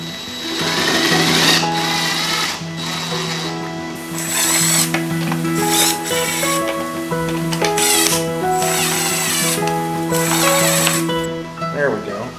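Cordless drill driving self-tapping screws into a plastic bucket turkey and chicken feeder, close and loud with whirring bursts that rise and stop, a voice speaking in between.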